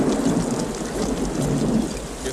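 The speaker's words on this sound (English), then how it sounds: "I know it's raining." Heavy steady rain with a rumbling thunderstorm from the 1992 western film Unforgiven, a dense continuous downpour with low rolling thunder, no voices.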